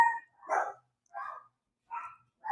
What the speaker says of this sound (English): I could hear the dogs real good